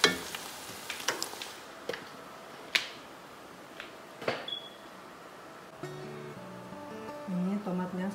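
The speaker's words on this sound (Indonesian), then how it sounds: "Tomatnya ini lagi digoreng ya." Chopped tomatoes fry in a pan for sambal goreng with a low sizzle, while scattered clicks and scrapes come from stirring and utensils. Near the end, a voice speaks over the cooking.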